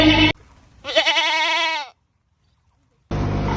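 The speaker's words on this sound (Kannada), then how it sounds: "ಅಜ ಅಂದರೆ ಮೇಕೆಯ ಧ್ವನಿ." A goat lets out one wavering bleat, close and clear, set between short bits of speech with a quiet pause after it.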